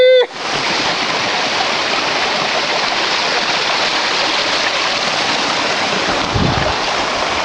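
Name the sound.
waterfall at Big South Fork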